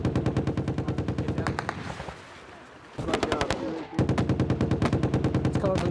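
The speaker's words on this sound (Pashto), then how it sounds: "طالبانو تر هغه مخکې چې موږ تمه لرله ډزې شروع کړې" Taliban fighters open fire in a combat engagement in Afghanistan: loud, rapid machine-gun bursts with sharp repeating shots, a brief lull, then further sustained automatic fire.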